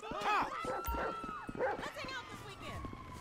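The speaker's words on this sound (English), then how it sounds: "Please don't tell me that dog's coming after me." A dog barking and yelping in the video game GTA 5, several short barks amid steady game sound, with a person talking over them.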